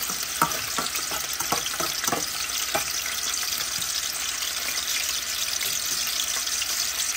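A piece of meat searing in a pan while cooking beans with nopales gives a steady, close frying sizzle with a few light scrapes and crackles, and no one speaks.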